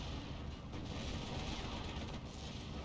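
Gunfire in the World War II strategy game Steel Division II, with tanks fighting around a town, a steady, fairly faint wash of distant shots and rumbling battle noise lasting a few seconds.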